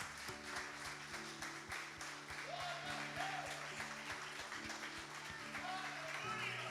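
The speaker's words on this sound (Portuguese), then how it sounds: "Se você crê, aplauda bem forte o Senhor Jesus." A church congregation applauds, a faint, steady patter of many hands with a rhythmic pulse under sustained musical tones and some distant voices.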